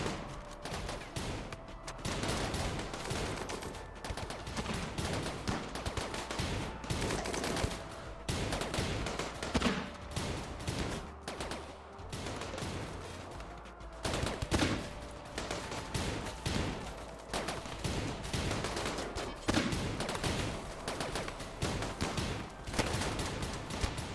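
Dense, continuous turret gunfire from the colony-building game Rimworld during a raid by more than 20 enemies, with rapid overlapping bursts crackling steadily for the whole stretch and no talk.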